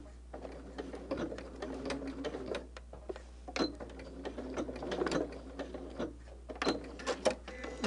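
Home sewing machine stitching a holiday table runner in short, steady runs with brief pauses, quiet and close, with faint ticking and tapping between bursts.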